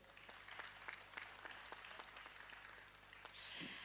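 Applause from a conference audience at a panel on human capital and digital technology for Africa, a steady patter of clapping with a few sharper claps standing out, and a brief voice near the end.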